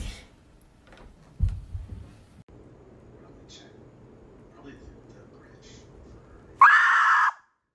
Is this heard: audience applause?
no